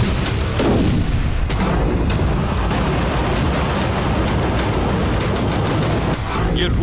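Dense, continuous barrage of booms and sharp cracks during a Russian night attack on Lviv, Ukraine, loud and sustained throughout with a few stronger blasts standing out.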